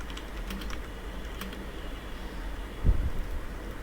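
Quiet clicking of a computer keyboard while a PowerPoint slide is being edited, irregular light taps in short bursts over a low room hum, ending with a louder thump near the end.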